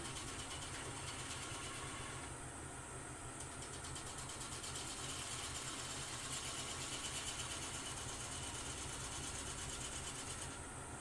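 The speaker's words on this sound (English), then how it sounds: "I'm just rolling the gouge over." A wood lathe spins steadily while a gouge cuts a cove, making a constant, close, whirring hiss with a fine rapid pulsing texture throughout, with no talking.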